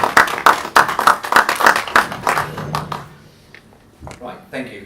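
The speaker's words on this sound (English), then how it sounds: "Round of applause." Applause at a green-transport conference greets a speaker from Dynamo Motor Company: a burst of quick, close claps fades within about three seconds, then a few isolated claps and soft voices follow.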